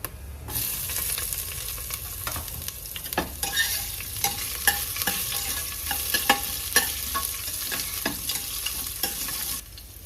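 Mutton curry sizzles in a pan while a spoon stirs and scrapes it, giving a steady frying hiss broken by irregular clinks and scrapes, close up and with no talking.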